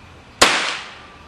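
An oxygen-acetylene powered BB gun fires one sharp, loud bang outdoors on a farm, with a brief ringing decay after the shot.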